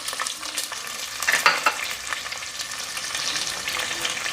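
Onion with bay leaf and shahjeera frying in oil inside a pressure cooker for chicken pulao, a steady close sizzle with occasional spatula scrapes and stirring.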